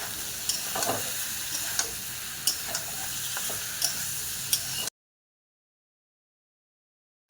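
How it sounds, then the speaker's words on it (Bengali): Vegetables and spices stir-fried in a pan for a fish, potato and bitter gourd curry, a dense continuous sizzle with scattered spatula ticks and scrapes, close up, ending abruptly in silence. "এবার সবজি আর মশলাকে কষে নেবো"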